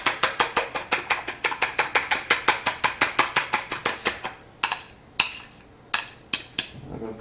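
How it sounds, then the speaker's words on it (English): Egg for an omelet whisked briskly in a bowl, a fast steady run of close, bright clicking strokes, then a few slower, separated taps at the end, no speech. "give it another quick whisk."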